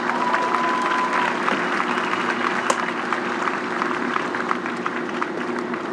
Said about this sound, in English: one more round of applause for my team co-hosts of the day